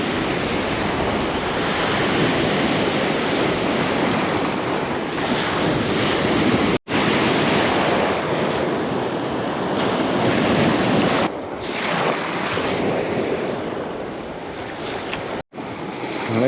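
Strong wind roars across the microphone on the Baltic shore at Mechelinki, Poland, mixed with the wash of surf, gusting steadily with brief dropouts and no voices.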